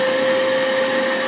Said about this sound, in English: there will be a little outtake of where I almost got eaten by a vacuum cleaner while filming.